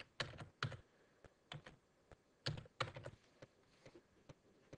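Typing on a computer keyboard, faint separate key clicks in two short clusters with pauses between, close and alone without any talk.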